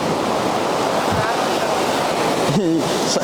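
Rushing water from a small waterfall by the sea at Kakolam Beach, Goa, pours steadily close by, blending with the wash of surf, while a voice speaks briefly near the end.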